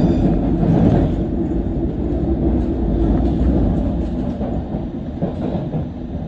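A London Underground Circle line train runs along the track between Edgware Road and Hammersmith, giving a loud, continuous rumble and rattle of wheels and carriages that holds steady throughout, with no voices.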